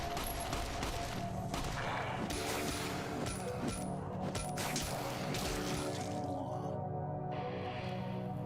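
Gunfire in Fallout: New Vegas, Dead Money: rapid, sharp bursts of shots fire in quick succession at a moderate distance, with brief metallic clinks between volleys and a short pause near the end.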